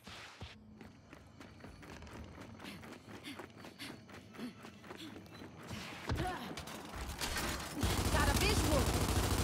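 Rapid gunfire from a Lancer rifle in the shooter game Gears 5, dense repeated shots and footsteps filling the mix, swelling louder toward the end.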